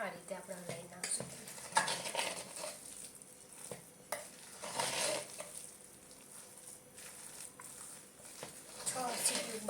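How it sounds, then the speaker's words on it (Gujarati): Cooked khichdi being stirred in a pressure cooker, with soft scraping and clinks of a spoon against the pot under a low sizzle, and a person talking over it. "આ રીતે આપણે હલાવી નાખશું."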